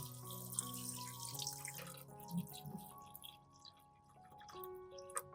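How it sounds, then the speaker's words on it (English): Tap water runs and splashes as it is added to a pot holding sliced dragon fruit peel, a soft, close flow with drips that tapers off toward the end. "Add water."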